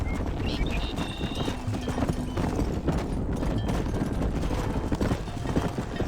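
Horse hooves clip-clop steadily in the Western video game Red Dead Redemption as riders drive livestock into a pen, a continuous close trotting rhythm over a dense bed of ambient noise, with an occasional whinny-like tone.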